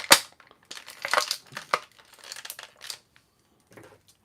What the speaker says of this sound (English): not make quite so much noise as usual with the ripping and tearing